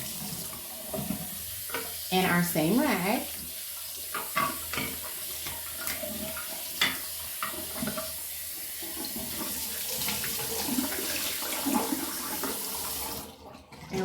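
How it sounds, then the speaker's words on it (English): Hot water runs steadily from a tap into a sink throughout, a continuous splashing flow with someone talking over it at moments. "we are going to be using hot water again"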